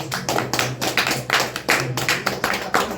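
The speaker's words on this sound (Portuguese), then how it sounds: "Palmas para Jesus" Church congregation clapping in a steady, rhythmic beat after a Portuguese service blessing, close, dense and continuous, with no talk over it.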